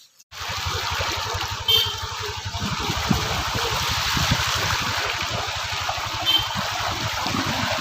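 Rainwater pouring and running fast after rain begins, a steady rushing gush heard close and fairly loud throughout, with a low rumbling undertone and no talking.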